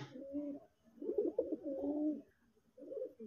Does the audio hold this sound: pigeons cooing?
yes